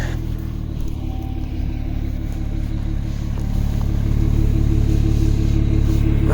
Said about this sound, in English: I'll give you guys another listen to the exhaust.